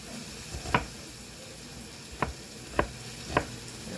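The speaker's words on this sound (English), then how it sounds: "I'm gonna chop it up" Knife chopping ingredients for steak fajitas on a cutting board: four sharp, separate thuds spaced irregularly over a quiet kitchen background, with no talking.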